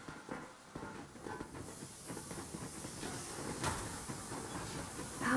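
The Aurora steam locomotive from Metro Exodus rolls along at a steady, quiet pace, its soft hiss and faint rail clatter sustained throughout with no talking.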